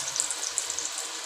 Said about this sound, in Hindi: डाल दी हमने इस तरीके से कि ऑयल बिल्कुल भी इतना गर्म होना चाहिए कि चिप्स हमारी नीचे ना लगे